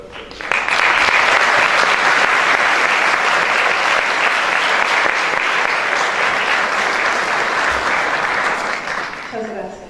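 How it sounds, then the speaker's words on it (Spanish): Sustained audience applause welcomes an architect at a university lecture series; dense, steady clapping starts abruptly, holds loud and even for several seconds, then fades at the end. "quisiera por favor que me diéramos la bienvenida con un aplauso a la arquitecta"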